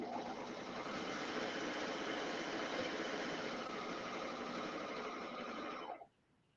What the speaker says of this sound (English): And this machine just stitches so fast.